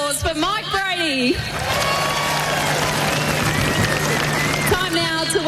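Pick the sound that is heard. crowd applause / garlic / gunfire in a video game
crowd applause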